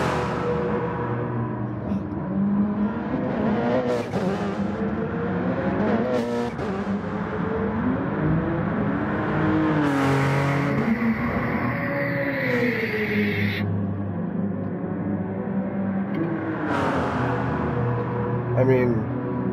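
A car in Gran Turismo Sport accelerates through the gears, with loud engine revs that rise and drop at each shift and close, steady engine roar. Someone speaks over it at times.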